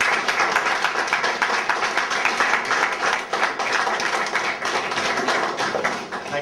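Sustained applause from an audience at an exhibition opening in Moate, dense steady clapping filling the whole stretch at a fairly loud, even level with no talk over it.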